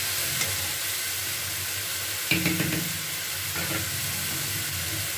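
Spice paste frying in a pan while being stirred, a steady sizzle with a brief burst of scraping and stirring partway through, close and alone with no talk.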